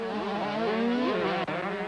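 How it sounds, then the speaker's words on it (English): A 125cc supercross motorcycle engine, heard at Daytona, revs up and down in quick rises and falls as the rider works the throttle on and off, a loud buzzing wail with a brief cut near the end. "Listen to him work that throttle through the rhythm section there"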